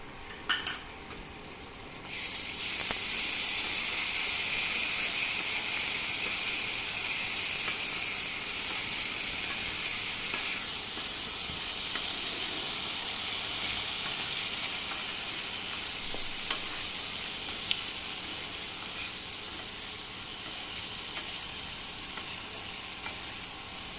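Sliced onions fried until browned keep sizzling steadily in a pan as ginger, garlic and chili paste go in for a mutton doi roast, with a loud continuous hiss and occasional utensil clinks throughout.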